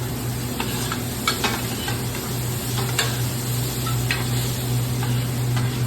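Hash browns on a flat top grill sizzle steadily while seasoning is added, with scattered light ticks and crackles over a constant low hum.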